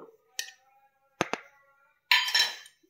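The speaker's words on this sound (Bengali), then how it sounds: "এটাকে ভালো করে গুলিয়ে নেব।" A metal spoon clinks against a bowl while stirring rice flour into cold milk, with a few separate sharp clinks and a short burst of scraping near the end, otherwise quiet.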